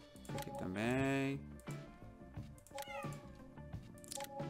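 A cat meows loudly at close range, one long drawn-out cry followed by shorter rising meows, mixed with a voice and some background game audio.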